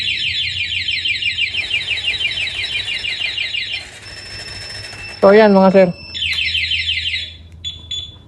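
Anti-theft alarm on a Kawasaki Barako motorcycle triggering, a loud, close, rapidly warbling electronic siren that cycles through changing tones, with someone briefly talking over it.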